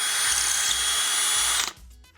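A power drill bores into old wood, with a steady high whine for about a second and a half before the motor cuts off abruptly, close and loud.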